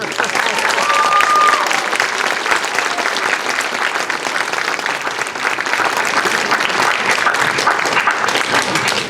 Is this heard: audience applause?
yes